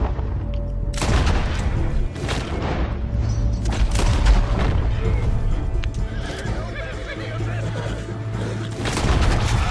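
Gunfire during a horseback chase in Red Dead Redemption 2, several sharp booming shots scattered across the scene, mixed with a horse whinnying and clip-clopping hooves, with no talk.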